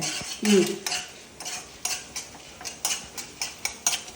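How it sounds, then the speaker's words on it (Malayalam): Grated coconut is stirred into a bitter gourd and sesame curry (pavakka ellu curry), a spoon scraping the pan in a steady, regular rhythm of short strokes, close and moderately loud. "ഇതൊന്ന് ഇളക്കി ഗ്യാസ് കൂട്ടണ്ടേ?"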